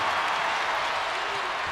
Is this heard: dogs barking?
no